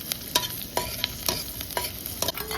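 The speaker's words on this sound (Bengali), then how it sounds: "এখন আমি যে রসুনগুলো আছে সেই রসুনগুলো তেলের মধ্যে দিয়ে ভেজে নিব ভালো করে" Garlic frying in oil in a home kitchen pan, with a steady soft sizzle broken by repeated sharp scraping strokes of a spatula stirring at an uneven rhythm, close and moderately loud.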